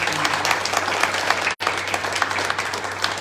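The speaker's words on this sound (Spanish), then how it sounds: "Denle fuerte el aplauso" A church congregation claps together in a strong, sustained burst of applause, fairly even in density, with a brief cut near the middle.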